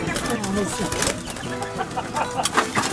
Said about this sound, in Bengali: খুব সুন্দর ডাকে এই মুরগিগুলো